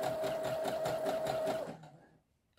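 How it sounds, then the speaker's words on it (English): A sewing machine runs a zigzag stitch in one steady burst with a fast, even mechanical rhythm. It sounds close and fairly loud, then stops, leaving a short quiet tail. "And I've got a zigzag stitch."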